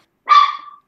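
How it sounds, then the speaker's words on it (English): A single sharp, loud dog bark, close by, with a brief trailing tail and silence around it. "That's my dog."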